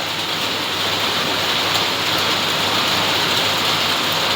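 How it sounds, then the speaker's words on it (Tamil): A heavy downpour on a village during the Karthigai Deepam festival. It makes a loud, dense, unbroken hiss of rain from start to finish, with no voices. "மழை எவ்வளோ பெய்யணுமோ அவ்வளோ மழை பெஞ்சிட்டு இருக்கு எங்கள் ஊரில்"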